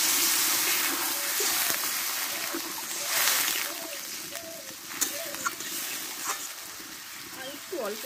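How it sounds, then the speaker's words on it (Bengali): Water goes into a pan of spiced vegetable curry, giving a steady hiss and sizzle with light splashing and bubbling, while a person talks over it. "এবার আমি পরিমাণ মতো জলটা দিয়ে দেবো।"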